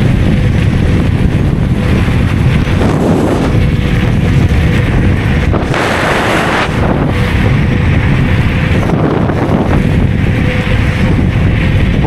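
Heavy wind buffets the microphone nonstop while riding a Kukirin G2 Master electric scooter, a loud roaring rumble with gusty swells, one sharper burst of rushing air midway, no voices.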